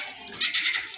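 Bleating from a large 8.5 to 9 month old goat: one strained, nasal cry that rises and wavers for about half a second, heard up close.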